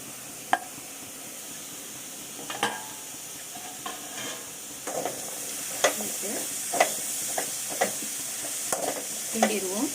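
A spoon scrapes and stirs drumsticks, broad beans, brinjal and carrot in a hot pan for sambar, soft sizzling underneath and the scraping strokes growing more frequent and rhythmic.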